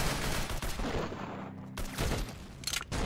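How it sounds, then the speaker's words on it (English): A butter knife fires like a gun in Roblox Arsenal, loosing a rapid, continuous volley of close, loud shots with only a couple of brief gaps across a few seconds. "It can shoot like a normal gun?"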